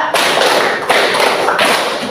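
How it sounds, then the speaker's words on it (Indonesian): A school class claps the rhythmic 'tepuk 3' pattern: three loud, sharp group claps in even succession, close by, with no talking. "Tepuk 3."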